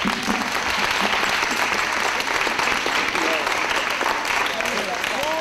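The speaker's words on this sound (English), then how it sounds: "Give yourself a round of applause." Audience applause after a presentation, steady dense clapping from a room full of people that holds at an even level for the full stretch, with some voices mixed in underneath.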